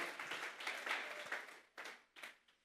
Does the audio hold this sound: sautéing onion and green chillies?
no